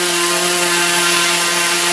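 An electric motor driven by an ESC runs at steady speed, giving a loud, constant whine with no change in pitch.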